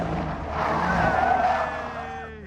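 A car's tires screech loudly in a sustained skid as it spins through a near-360 turn, the squeal rising and then fading over a couple of seconds with engine noise underneath.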